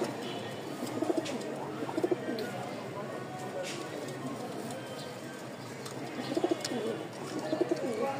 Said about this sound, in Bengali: এটা হচ্ছে আমাদের টপ কোয়ালিটির এক জোড়া রাজশাহীর সাদা শ্বেত কবুতর, উড়াবাজি